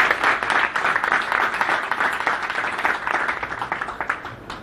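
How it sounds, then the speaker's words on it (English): A crowd applauds speakers at a marketing event in India, loud continuous clapping from many hands with a slightly uneven, flickering texture that thins toward the close. "I would request you to have a huge round of applause for Mr. Sohi and Mr. Ralhan and Mr."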